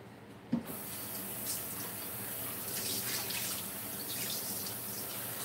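Hot water runs steadily from a kitchen tap, a constant hissing splash that starts after a brief knock and continues alone at moderate loudness.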